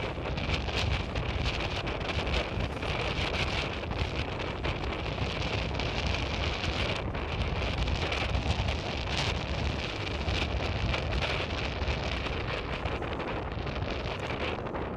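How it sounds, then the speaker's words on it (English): Wind buffets the microphone over an evening baseball field, a loud continuous rushing roar with gusty flutter and no voices heard. "Wind picking up here a little bit in the evening."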